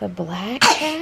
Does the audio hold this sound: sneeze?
yes